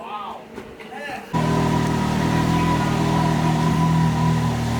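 A Can-Am Maverick X3 fires up and settles into a steady, close idle as it warms up for an oil change, with a low even drone after a quieter stretch with a voice at the start.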